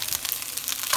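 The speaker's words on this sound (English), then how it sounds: "And let this rice fry," A brief, steady hiss rises from fried rice with mixed vegetables and egg frying in a home hibachi-style pan, close and even, with no talking.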